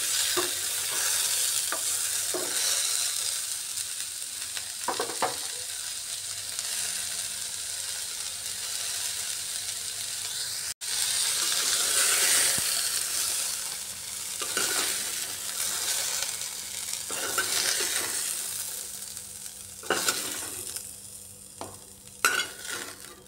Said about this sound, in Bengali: আঁচটা মিডিয়ামে রেখে পটলগুলো একটু ভেজে নিচ্ছি